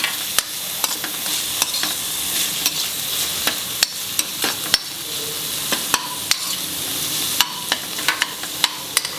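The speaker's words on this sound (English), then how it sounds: "Now you can add the tomatoes and saute this till it becomes soft" Tomatoes sauté in a pan for a dry shrimp curry, a steady soft sizzle broken by sharp clicks and scrapes of a spoon stirring against the pan at irregular intervals, close and alone without talk.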